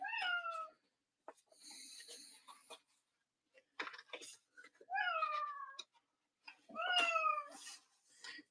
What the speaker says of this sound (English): can y'all hear my cat?